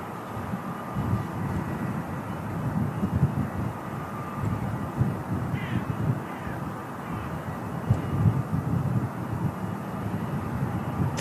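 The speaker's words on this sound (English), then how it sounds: "I've got an aircraft on approach as well. It's like an EasyJet." An EasyJet airliner on approach to Manchester Airport, its engines a continuous low, distant rumble that holds steady for the whole stretch. Faint bird calls come through briefly midway, and no one speaks.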